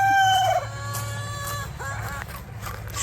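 Poultry at a farm coop, a rooster crowing loudly up close, then scattered clucks and calls over a constant low hum.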